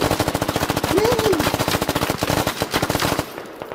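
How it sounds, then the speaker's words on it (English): Rapid automatic gunfire sprayed at a wall in the video game Squad, a loud close stream of evenly spaced shots that runs for about three seconds before stopping, with a brief voice underneath. "I'm not shooting anybody, I'm just shooting at the wall, okay?"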